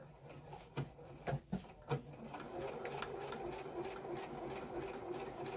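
A home sewing machine stitches a new seam for a first-time sewer, starting with a few separate knocks and clicks, then settling into a steady mechanical whir.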